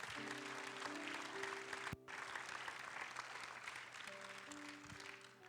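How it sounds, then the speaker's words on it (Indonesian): Church congregation applauding for God in continuous, dense clapping heard at a low level, steady throughout with faint tonal sounds underneath. "Bisa tambah kuat tepuk tangannya bagi Tuhan."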